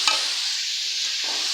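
Eggplant fries with shrimp, onion and green chili in a pan, giving a brief close hiss of hot oil with a small clatter at the start and a light stir near the end.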